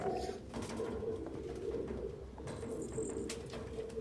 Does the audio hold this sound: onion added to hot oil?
no